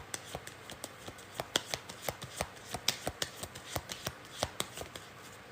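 Tarot cards shuffled and flicked in quick, uneven bursts of crisp slaps and riffles, close and fairly quiet, with no voices.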